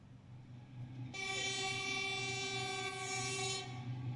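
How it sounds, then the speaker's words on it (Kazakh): A steam locomotive's whistle bursts on after a quiet rumbling start and blares loud and steady for about two and a half seconds before cutting off, leaving a low background rumble. "мынау бізде паровоздың дыбысы екен"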